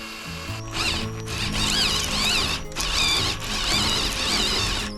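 A video-game drill machine with an upgraded drill whirs in long bursts, its whine rising and falling, with a brief pause between runs and no talking.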